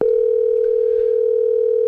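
A steady telephone tone holds unbroken at close range as a call is placed, loud and even with no talk over it.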